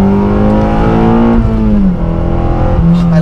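A Honda Civic Si, ninth generation, revs loudly from inside the cabin as the engine climbs, dips briefly during a gear change, then pulls again, a strong steady drone with no talking.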